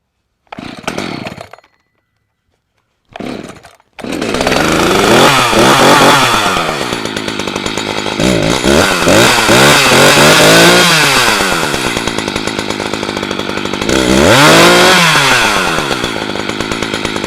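A Husqvarna CS 455 chainsaw sputters through two short pull-start bursts, then catches and roars loud and close, revving up and down several times in a continuous snarl.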